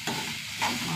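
Chillies fry in a pan, giving a steady close sizzle and hiss with a brief stirring scrape.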